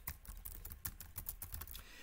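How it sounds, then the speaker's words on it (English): Rapid typing on the mechanical keys of an MSI MAG 15 laptop keyboard, a steady run of close, crisp clacking strokes with no voices. "Now, keyboard strokes of our mechanical keys sound like this."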